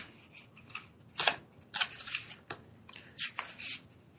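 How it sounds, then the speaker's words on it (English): Paper rustling and crinkling in short handled bursts, several sharp crackles spaced irregularly over a quiet background, close to the microphone, with no speech. "Isn't it charming, though, at least to hear the paper, yeah. The paper rustling."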